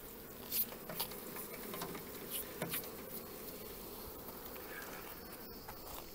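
Honeybee swarm buzzing around hive frames being brushed into a small nucleus hive in hot sun, a dense, steady drone of many bees close by with a few louder passes.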